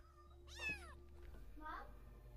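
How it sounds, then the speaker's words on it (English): A zombie makes a cat-like meowing noise, two drawn-out, wavering meows close by over a low steady hum, the first louder and the second softer. "they make a noise like a cat for some reason"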